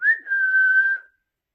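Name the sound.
whistling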